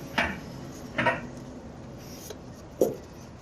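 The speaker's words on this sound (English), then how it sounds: "Let's put a hose clamp on it." Fitting a metal hose clamp onto a hose while removing the rear heater of a Toyota HiAce van, with three short scraping, clicking handling sounds, close and fairly quiet, and no talk.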